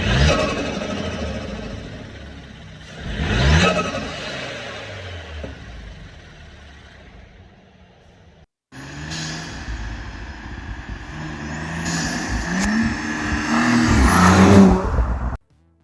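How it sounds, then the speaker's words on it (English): A B9 Audi S4 engine with an AWE Tuning air intake and Track exhaust revs up sharply and settles, then after a brief cut revs again with rising turbo whoosh and intake hiss, loud and close, building to a final peak. "You really can hear the whole like turbo and the air being pulled into the engine and such."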